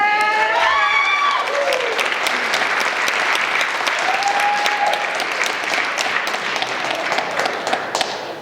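Sustained audience applause at a Working Families forum for Philadelphia City Council candidates, a dense, steady wash of clapping running the full length, with a few brief whistles and cheers at the start.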